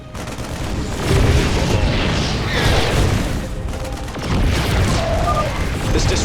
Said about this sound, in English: Our cannon shall sing.